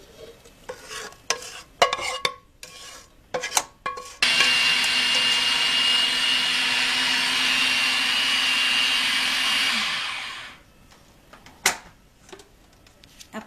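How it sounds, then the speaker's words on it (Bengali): Sweetened chhana (cottage cheese) is blended with a steel blade, a steady, loud whirring drone lasting about six seconds, framed by clinks and knocks of handling before and after. "আমি এখন এই ছানাটাকে ব্লেন্ড করে নিব।"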